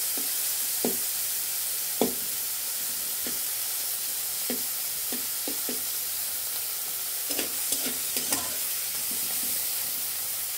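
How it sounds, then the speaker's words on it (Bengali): Local shrimp sizzling in a small amount of white oil in a wok, a constant frying hiss broken by sharp, scattered clacks and scrapes from stirring, close and clear. "চিংড়ি মাছগুলো ভালোভাবে ভেজে নিতে হবে।"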